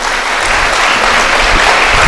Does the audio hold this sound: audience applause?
yes